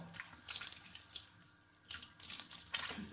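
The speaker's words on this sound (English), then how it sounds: "and I'm going to rinse it off, obviously" Tap water runs into a sink while skin cleanser is rinsed off, a close, steady splashing that swells and fades in bursts, with no talking.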